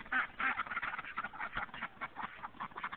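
Khaki Campbell ducks with a buff duck among them quacking in a dense, continuous chorus, many overlapping calls close by and fairly loud.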